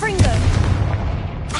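A Confringo blasting spell in a Harry Potter video game sets off a brief, loud, booming burst with a rumbling tail, all within under two seconds.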